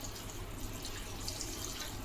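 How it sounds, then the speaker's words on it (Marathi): Water is poured into a pressure cooker holding soaked peanuts, a steady close-up trickling stream that runs unbroken for about two seconds with no talk. "तर कुकर मध्ये आपण थोडं पाणी ओतूया"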